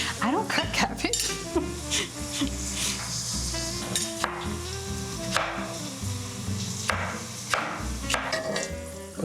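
Paraguayan-style milanesa frying in a pan, with steady sizzling crackle throughout and repeated metallic scrapes and clatters of a utensil against the pan, fairly close and loud.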